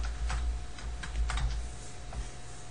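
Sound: typing on a computer keyboard

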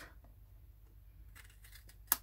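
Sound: scissors trimming paper

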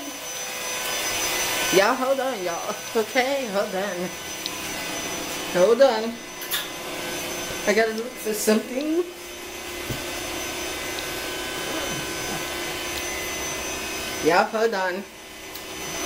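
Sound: air pump inflating an air bed

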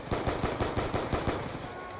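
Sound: gunfire in video game Black Ops 2 Zombies

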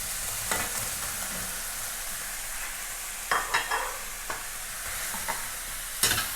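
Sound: stir-frying zucchini in a pan

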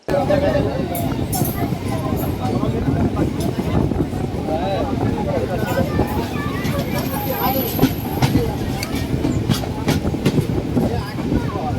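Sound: local train running from Howrah to Digha

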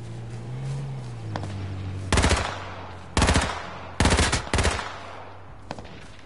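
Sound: gunfire in a video game

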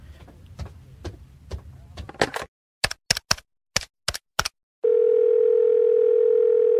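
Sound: telephone dial tone and dialing

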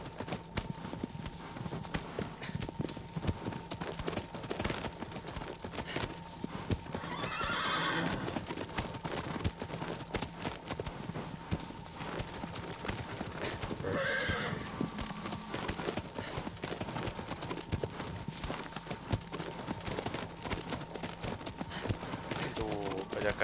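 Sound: horse galloping in video game Shadow of the Colossus

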